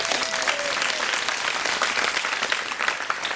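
Applause for a speaker at an FTC event, a full, even burst of crowd clapping that holds at a steady level for a few seconds, with a few murmured voices beneath.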